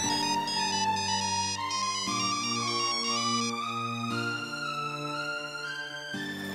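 An incoming call's ringtone plays a loud, melodic electronic tune with stepped notes, continuous and up close, with no talk over it, in a Bangla drama.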